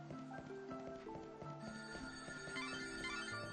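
A telephone rings steadily in the video game Lightning Returns: Final Fantasy XIII. The repeating electronic ring tones play alone over a continuous game music bed.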